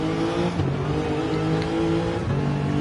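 A race car leaves the pits on soft tyres at Spa in a Gran Turismo 7 league race, its engine note rising and shifting through gears, loud and close, with no talk.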